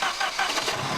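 A rebuilt SAAB engine idles with a rattle, producing a loud, steady mechanical chatter and hum that stays close and continuous throughout the short stretch.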